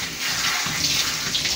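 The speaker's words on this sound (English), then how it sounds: "Just having a shower spray right out your butt." Shower sprayer running steadily as a dog is washed in a bathtub without proper equipment, a continuous close hiss of spraying water filling the whole clip.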